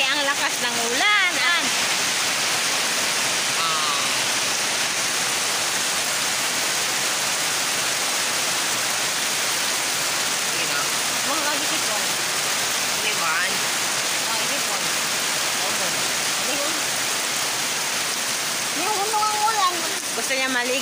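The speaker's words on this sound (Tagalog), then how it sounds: "Ang lakas ng ulan!" Heavy rain pours down in a dense, continuous roar, loud and close for the whole stretch, while voices speak briefly at the start and near the end.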